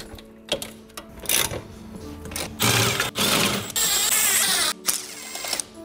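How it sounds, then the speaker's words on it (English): An impact driver spins bolts out during a front-mount heat exchanger install on an F80 BMW M3 with the S55 engine, with loud rapid hammering bursts separated by short pauses, close and unaccompanied by speech. "I'll attach the bit to my impact driver just to speed things up a"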